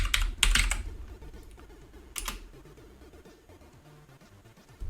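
Bursts of fast typing on a worn computer keyboard that is starting to fail and double-register keys, two dense clusters of clicks close up, then scattered faint taps.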